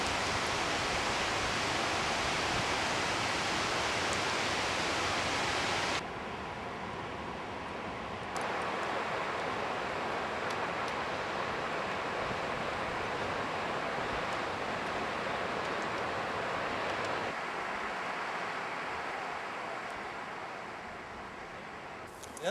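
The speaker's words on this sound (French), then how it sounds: "Regardez à travers là-bas derrière vous, le torrent du Bac là, hein, dans les cascades là." A mountain torrent rushing down cascades, heard as a broad, continuous roar of falling water that drops slightly in level partway through and fades toward the end, with faint voices in the background.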